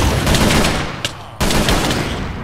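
Continuous loud video game gunfire, rapid automatic bursts filling the clip with one brief lull before the shooting resumes, up front with no talk.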